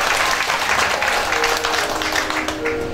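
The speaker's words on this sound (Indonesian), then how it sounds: "Tepuk tangan buat pendeta Agustinus Purba." A crowd applauds steadily throughout, a dense wash of clapping that fades slightly toward the end.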